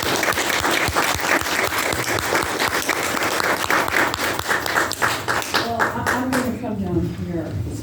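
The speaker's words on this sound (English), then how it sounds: "Let's welcome Teresa." Sustained audience applause welcoming a speaker to the stage at a community gathering, dense steady clapping throughout that thins toward the end as a voice begins.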